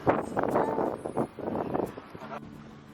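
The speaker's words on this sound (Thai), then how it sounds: "วันนี้ลมแรงมาก ๆ เลย" Strong wind at Khao Laem Ya in Rayong buffets the microphone in loud, uneven gusts that roar and drop, easing toward the end.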